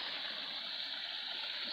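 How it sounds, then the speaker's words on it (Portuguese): A waterfall heard from a short distance gives a steady, even hiss of flowing water with no breaks, running alone at moderate loudness. "só o barulho da água aqui para vocês sentirem"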